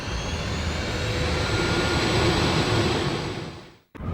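Jet fighter engine roaring at high power on a carrier catapult in Ace Combat 5, a steady loud whooshing rumble that swells slightly before cutting off abruptly near the end.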